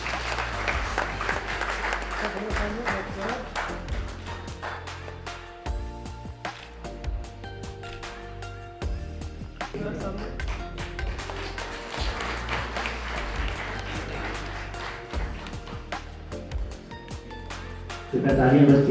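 Audience applause at a state Teachers' Day award ceremony at Raj Bhavan, Shimla, as the Governor honours teachers; steady clapping runs throughout, with a man announcing over the public address at times and a brief louder burst near the end.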